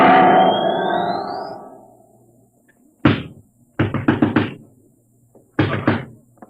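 Heavy fists pound on a door in a radio drama sound effect, coming in three separate bouts of loud, close, rapid thuds after a fading tonal swell, with silence between the bursts.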